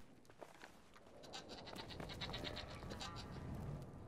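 Goats bleat faintly in the video game Brothers: A Tale of Two Sons, with a few soft, wavering calls over quiet scratchy background noise.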